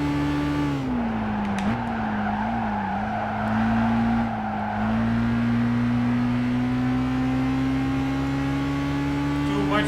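A race car in Gran Turismo 5 braking hard, its steady engine drone dipping and wavering through the deceleration before settling, close and continuous for about ten seconds.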